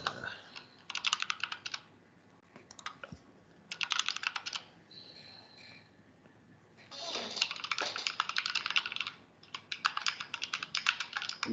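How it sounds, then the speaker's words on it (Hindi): Fast typing on a laptop keyboard in a lab, dense bursts of rapid key clicks separated by short pauses, close and clear with faint background noise. "भैया, माशाल्लाह से टाइपिंग स्पीड बहुत तेज है आपकी।"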